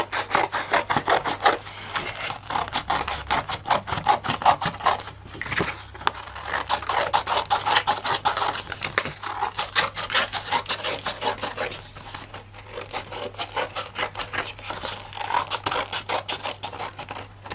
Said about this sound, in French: Je prends un ciseau plus petit là.